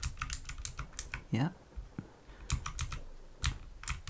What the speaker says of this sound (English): use your keyboard here.